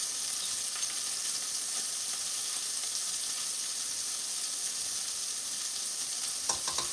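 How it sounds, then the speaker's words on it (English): Spices mixed into a butter and sugar mixture, giving a continuous soft hissing, scraping stir at close range with no speech. "now we're gonna mix all of our spices into our butter and our sugar mixture."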